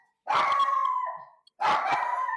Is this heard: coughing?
no